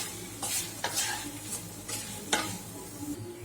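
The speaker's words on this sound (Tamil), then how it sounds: "மசாலா நல்லா பரட்டி விட்டுருங்க. ஃப்ளேம் ஸ்லோலியே இருக்கட்டும்." Fried plantain being stirred into masala in oil over a low flame for Chettinad valakkai varuval: soft sizzle with a series of distinct scraping spoon strokes roughly every half second.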